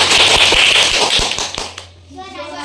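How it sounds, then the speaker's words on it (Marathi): Schoolchildren clap together in a Zilla Parishad school classroom in Maharashtra: a brisk, ragged burst of sharp hand claps that stops after under two seconds and leaves a quiet room. "टाळ्या वाजवा."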